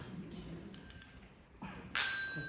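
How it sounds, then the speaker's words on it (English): A plastic comb with teeth is drawn across the ridge of a hand bell from a community handbell choir, ending in a bright, shimmering ring that sustains after soft earlier scraping tones. "It's just a plastic like a comb, and it has teeth on it. And what you do is just draw it across the ridge of the bell."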